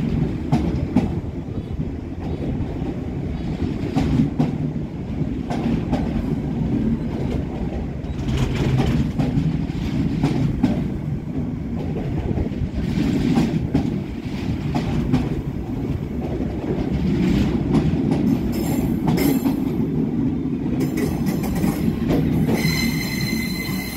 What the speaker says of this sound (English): with an engineering train, which looks like empty ballast wagons.